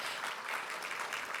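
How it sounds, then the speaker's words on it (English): Steady applause from a crowd at a police merit awards ceremony, a continuous wash of clapping with no voices. "Nice applause."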